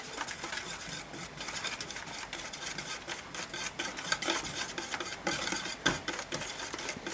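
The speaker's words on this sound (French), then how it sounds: "Et je mélange jusqu'à obtenir une préparation" Wire whisk stirring coconut flan pâtissier batter with cornstarch in a bowl: a steady, continuous scraping swish with rhythmic clinks against the bowl, close and fairly loud, with no talking.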